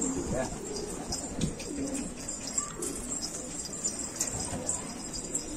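Racing pigeons released outdoors, cooing and fluttering in a dense, steady murmur, with a few sharper knocks and movements nearby.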